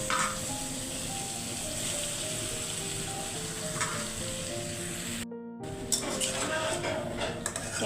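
Vegetables drop into a pan of sautéed spices and sizzle steadily and loudly, a continuous frying hiss with a brief gap and a few clinks of a utensil against the pan.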